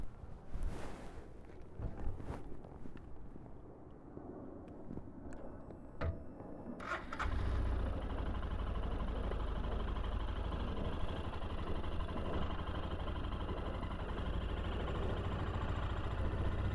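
Engine of a 2023 Royal Enfield Scram 411 motorcycle cranking and firing up, then settling into a steady, close, low thumping idle that holds to the end.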